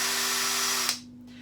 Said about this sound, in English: last year for Christmas I asked for this new electric drill.